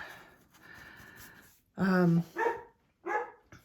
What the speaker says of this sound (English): Cooper is barking at the workman across the street, so I don't know if he's going to stop.